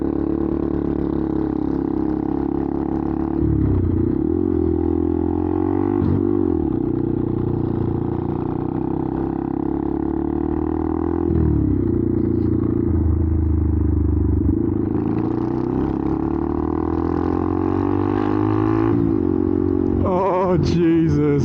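A Benelli TNT 125 motorcycle fitted with an upgraded aftermarket exhaust runs steadily close up, its engine droning continuously with several rises and drops in revs and a brief revving flourish near the end.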